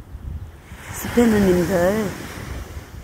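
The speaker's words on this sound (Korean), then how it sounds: "오늘따라 이 파도 소리가 더 힘차게 들려요" Ocean waves wash in as a steady, broad rushing roar, with wind-like noise around them, while a person speaks briefly over the surf.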